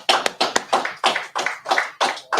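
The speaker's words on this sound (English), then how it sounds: "So I want to clap it up again for the Commander General Yahanna." An audience at a Purim feast gathering claps in a steady, even rhythm of sharp nearby hand claps, roughly three per second, with no talking over them.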